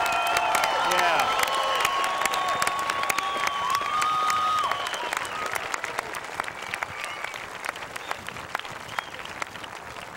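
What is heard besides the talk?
audience applause and cheering for graduating class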